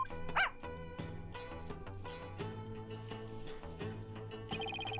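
A dog barks and yips in the Phoenix Wright: Ace Attorney - Spirit of Justice video game, short bursts over steady game music with a sharp yelp near the start.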